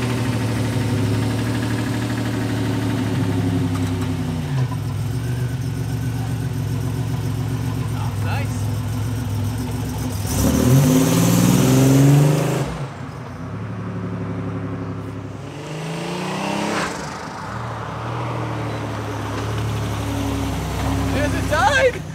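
A Buick Grand National engine idles steadily, then revs up sharply a couple of times before settling back, with excited voices talking over it.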